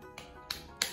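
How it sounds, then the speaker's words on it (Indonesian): Three sharp, quick claps or snaps, evenly spaced in under a second, close and crisp against quiet. "Tepuk tangan."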